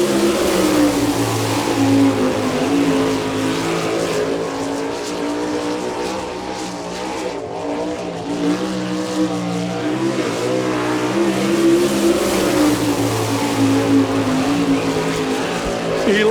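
Sprint car on a Maxim chassis with a Kzer racing engine, running a lap at an All Star Circuit of Champions race in Chillicothe, Ohio: a loud, sustained engine roar with rising and falling revs across the whole stretch.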